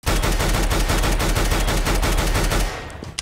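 Automatic rifle spraying in Counter-Strike: Global Offensive, a dense, rapid, unbroken burst of loud gunshots lasting nearly three seconds before cutting off.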